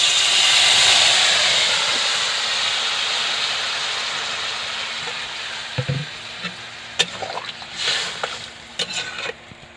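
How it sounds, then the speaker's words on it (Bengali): Water hits a pan of frying arum (ol), a loud rush of hissing sizzle that gradually subsides, followed by a few clanks and scrapes of utensils against the pan. "এবারে জল দিয়ে দেব।"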